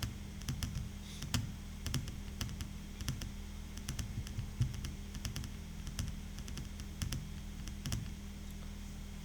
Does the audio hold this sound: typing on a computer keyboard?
yes